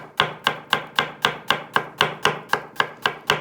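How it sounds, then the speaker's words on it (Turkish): A knife chopping meat into pieces on a board for a rice pilaf dish, with about a dozen crisp, evenly spaced thuds at a steady rhythm, close by and with no talking. "Etleri doğrarken fazla büyük parçalar halinde doğramayalım."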